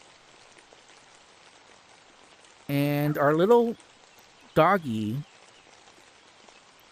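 Soft, steady rain hisses faintly in the VR farming game Everdream Valley, a continuous light patter running under a person who speaks briefly.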